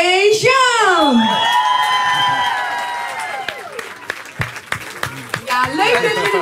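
A stage-show crowd cheers with rising whoops and shouts at a CD launch, then breaks into loud, sustained applause with scattered voices. The sound is close and fills the room.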